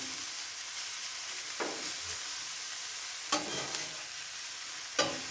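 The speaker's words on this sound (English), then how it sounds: "I've got some diced bacon on, and the bacon fat will help put some nice flavours to the veggies" Diced bacon and vegetables fry on a seasoned griddle of a Masterbuilt 1050 gravity-fed grill, giving a steady close sizzle, with a few soft scraping stirs breaking through.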